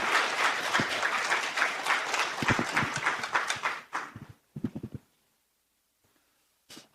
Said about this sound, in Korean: 우리 박수로 목사님 환영하면서 오늘 집회 마음 열고 기다리겠습니다.